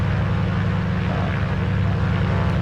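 A Grumman Goose's twin propeller engines in Microsoft Flight Simulator 2020 drone steadily near full throttle, a loud, continuous low throbbing hum with no talking.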